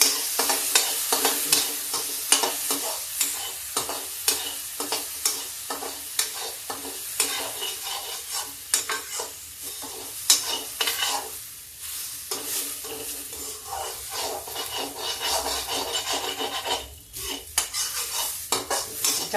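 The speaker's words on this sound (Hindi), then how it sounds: "चावल डाल दिए, इसको थोड़ा फ्राई करते हैं।" Rice for kheer stir-fried in a pan, with a light sizzle under constant scraping and clinking of a spoon against metal in quick irregular strokes, close and fairly loud, no voices.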